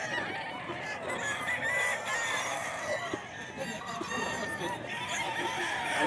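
Gamefowl roosters crow and cluck in a busy yard, several birds calling over one another in a continuous noisy chorus with faint voices underneath.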